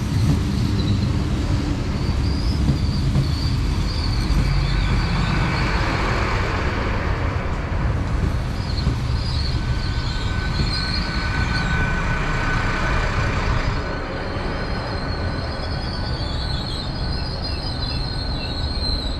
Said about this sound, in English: arriving now is a 1342 Great Western Railway service from Hereford to London Paddington